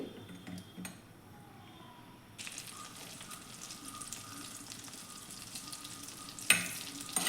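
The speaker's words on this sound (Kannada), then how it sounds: "ಇದಕ್ಕೆ ನಾನು ಒಂದಿಷ್ಟು ದೊಡ್ಡ ಪೀಸ್ದು ಬಟರ್ ಹಾಕ್ಕೋತೀನಿ ಬಟರ್ ಮೆಲ್ಟ್ ಆಗಲಿ" Butter melting and sizzling in a medium-sized pan, quiet at first, then a steady broadband sizzle swelling from about two seconds on, with a sharp clatter near the end.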